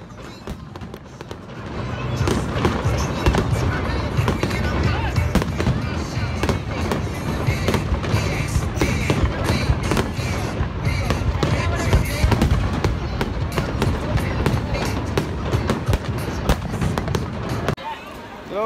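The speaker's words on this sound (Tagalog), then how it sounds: "ang daming fireworks" A Fourth of July fireworks display crackles and booms continuously, rapid overlapping bursts and pops at close range, with people talking and calling out underneath.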